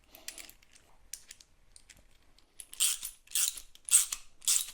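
On a Razor DXT drift trike wheel, a nut is tightened onto the axle, pressing sleeves into the bearings. Close, sparse metallic clicks and ratcheting bursts come in short groups with quiet gaps between them.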